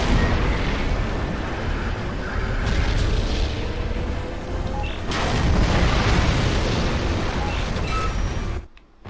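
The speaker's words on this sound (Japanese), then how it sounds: "発射台に爆薬を仕掛ければいいわ。だけど爆発まで時間がない。" A launch-pad explosion in the PS2 game 007 Nightfire roars as a loud, sustained blast lasting about nine seconds, with a fresh burst partway through, then cuts off abruptly at the end.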